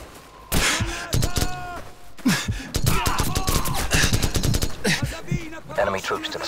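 Sustained covering gunfire in the shooter Call of Duty 4: Modern Warfare: loud, rapid automatic bursts with sharp individual shots, coming in dense volleys separated by short pauses, with no voices over them.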